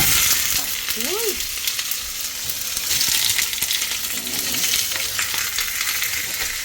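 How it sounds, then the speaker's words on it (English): A burger patty fries in a pan with a steady, close sizzle throughout, and a brief voiced exclamation comes in near the start. "So what I'm going to do is to try to fry it a little bit."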